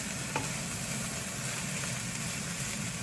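Garlic fried rice with soy sauce and Spam sizzling in a hot pan while being mixed, a steady close frying hiss with a brief clink near the start.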